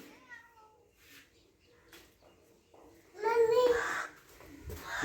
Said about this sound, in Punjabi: ਕਿੱਥੇ ਗਈ ਬਿੱਲੀ